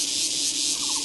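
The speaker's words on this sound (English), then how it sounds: "now we can hear the sounds of cicadas" Cicadas drone in a mountain forest recreation area, a steady, dense high-pitched buzzing that fills the whole moment without a break, loud and continuous with no voices over it.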